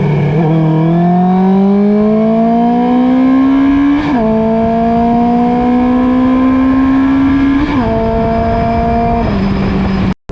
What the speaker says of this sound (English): I love the sound of this bike so much